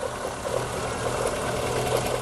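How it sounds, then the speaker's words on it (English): Steady mechanical clatter from the engine bay of a GMC Terrain running very low on oil, a continuous loud rattling whir with an even, rapid pulse and no pauses. "This GMC Terrain came in with quite the noise from the engine bay."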